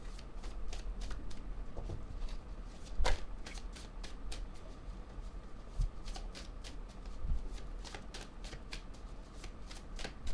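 A deck of cards is shuffled for a reading, with close riffles and flicks repeating in bursts and a few sharper snaps, no speech.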